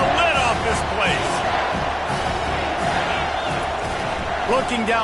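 A loud, dense roar from a football stadium crowd in a college football video game, with cheering and whoops washing steadily throughout on third down.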